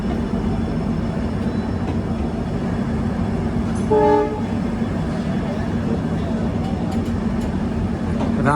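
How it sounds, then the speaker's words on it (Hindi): The Ramnagar–Kathgodam passenger train pulls out of a station with a continuous loud rumble and clatter of wagons and a short horn toot partway through, with people talking underneath. "Ramnagar Kathgodam passenger train 1 minute मुश्किल से रुकने के बाद निकल चुकी है रामनगर की तरफ"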